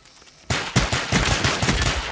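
Rapid gunfire in Black Ops on PS3 during a Gun Game match while someone tries to snipe with a pistol, a dense burst of sharp shots starting abruptly after a brief quiet lead-in and continuing steadily.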